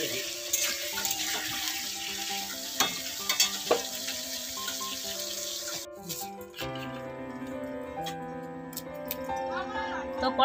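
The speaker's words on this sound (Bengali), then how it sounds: "আমি আলুটা একটু ভেজে নিচ্ছি" Potatoes for a chicken curry fry in hot oil in a kadai, a steady sizzle and crackle running under background music for about ten seconds.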